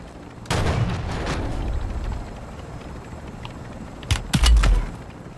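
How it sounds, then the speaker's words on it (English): Sniper shots ring out in a battle royale video game, one heavy boom early on followed by a fading tail, then a tight cluster of loud cracks near the end. "I'm being sniped, dude."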